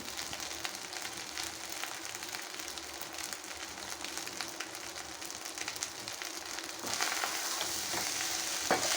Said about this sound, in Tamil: இது நல்லா ஃப்ரை ஆகட்டுங்க இந்த ஃப்ரைட் ரைஸு